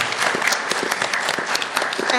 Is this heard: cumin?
no